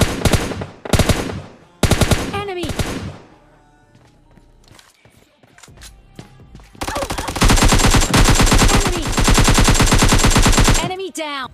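Loud automatic gunfire from the video game PUBG Lite, in rapid bursts at the start, then a quieter stretch of softer shots, then a long sustained volley to the end.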